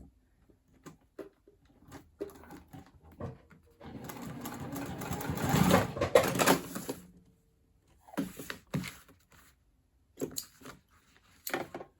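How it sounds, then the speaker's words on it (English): A sewing machine runs in short bursts while stitching a tote bag: a few brief taps, then a longer steady whirring run in the middle, followed by more quick stop-start stitching with quiet gaps between. "Nothing annoys me more than when a sewing machine skips its stitches."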